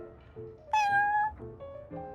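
A cat meows in the Genshin Impact card game: a clear, close, drawn-out meow rising over a soft background melody, alone without talk.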